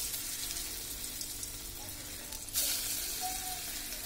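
Lentil paste fritters (piyaju) frying in hot oil over medium heat: a soft, steady sizzle with crackling, growing brighter and louder as another spoonful of batter drops in partway through.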